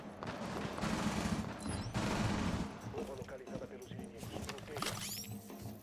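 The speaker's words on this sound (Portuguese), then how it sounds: "Tem cara atirando." Rainbow Six Siege gunfire: quick, dense bursts of rapid shots, heaviest early on and quieter toward the end, with players' voices talking over the game.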